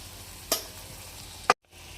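Cumin, green chillies, onion, tomato, turmeric, garam masala and red chilli powder fry in a pan for soya chunk bhurji, with a steady soft sizzle broken by two sharp clicks.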